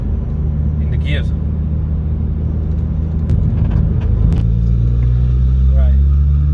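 A remapped 270 bhp VW Golf MK5 GTI accelerating on a motorway, heard from inside the cabin as a loud, steady engine drone and road rumble that builds in pitch, with brief talk over it.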